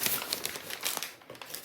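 Sheets of paper crumple and rustle briefly at close range on a market table as they are pushed aside, a few quick crackling bursts.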